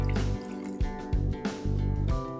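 Water poured into dal while it cooks, with a short run of splashy, gurgling liquid sounds and soft drips heard close up, with no talking.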